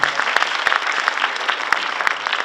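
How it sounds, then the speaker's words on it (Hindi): Audience applause at a stage play's curtain-call credits: dense, steady clapping from a sizable crowd, loud and sustained throughout with no talk. "तो उनके लिए भी तालियां हो जाए"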